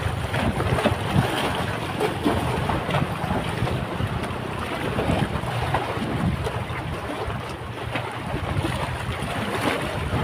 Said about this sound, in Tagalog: Lakas ng hampas ng alon.